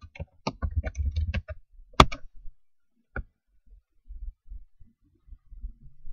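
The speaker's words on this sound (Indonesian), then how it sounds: "Saya ketik ya." A computer keyboard is typed on in a quiet room: a quick burst of close, crisp key taps, then a few isolated clicks and softer scattered keystrokes.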